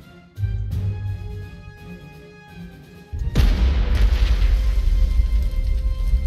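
Artillery explosions in the Panzer Corps 2 strategy game, a low rumbling boom that starts early, then a heavier sustained blast and roar of continued bombardment with no voices.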